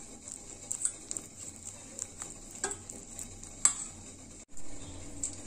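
Banana pancake batter of mashed ripe banana and powdered sugar is stirred in a bowl, giving close, irregular scrapes and light clinks of the utensil against the sides, with a brief pause near the end and no talk.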